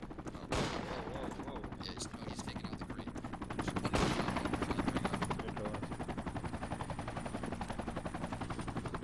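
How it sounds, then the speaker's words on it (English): Gunfire in the military video game Project Reality: sharp loud reports, followed by rapid automatic bursts of fire that rattle on in a fast rhythm. Several distant shots come in between, and voices talk over the action. "Sounds like somebody's shooting from southeast."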